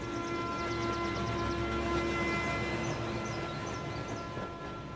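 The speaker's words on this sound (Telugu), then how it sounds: "ట్రైన్ అర్ధ గంట వరకు ఇన్నే ఉంటది" Train standing at a railway station, a low steady rumble with faint tonal hums and distant chirping, heard alone without talk.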